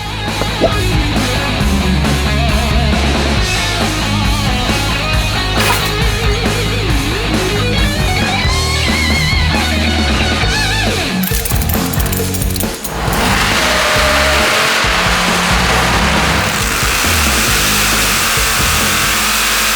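A Ford Ranger pickup fitted with an LSX V8 engine roars on a dyno, loud and continuous, with the engine note sweeping up and down through repeated rev climbs and a brief dip before another hard pull.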